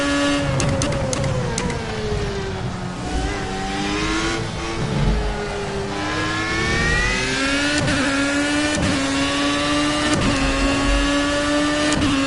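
A Ford Mk IV race car in Project CARS revs hard, its engine pitch climbing and then dropping sharply through several downshifts, loud and close for the whole stretch.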